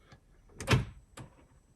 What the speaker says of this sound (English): it locked the driver's door, but it didn't lock the passenger door.